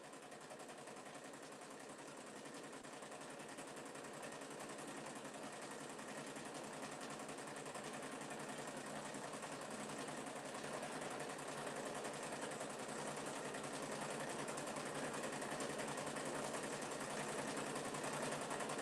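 A sewing machine winds bobbins with a continuous, even mechanical whir and rattle that holds steady and grows slightly louder, close but fairly quiet, with no voices.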